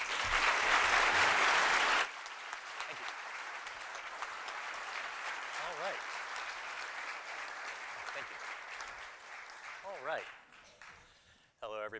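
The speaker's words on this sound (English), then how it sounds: "let's give a round of applause to Andy Weir" Audience applause for author Andy Weir at a talk, a loud dense burst of clapping that drops to a lighter sustained patter with scattered voices and whoops before dying away.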